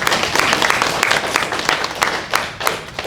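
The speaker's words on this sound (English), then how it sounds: "please give them all a round of applause for their hard work" A short burst of audience applause at a city press briefing: close, crisp clapping from a modest crowd, with individual claps distinct in a lively, uneven patter.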